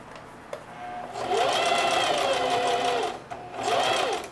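A sewing machine stitches denim in two steady whirring runs of a couple of seconds each, close and fairly quiet, with a brief pause between them.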